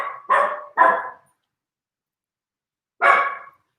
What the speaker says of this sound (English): do you guys hear the dogs?